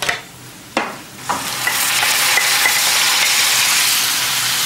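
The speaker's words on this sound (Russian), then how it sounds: "Недолго тушим все вместе." Onions, garlic and tomatoes stewing in a pan give a few sharp clatters of stirring, then a loud, steady sizzle and hiss that fills the rest of the time.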